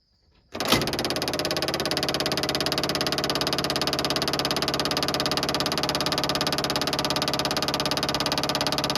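The engine of a 1961 International Travelall ambulance with a remanufactured carburetor cranks and catches after a brief quiet moment, then runs at a steady, loud, evenly pulsing idle.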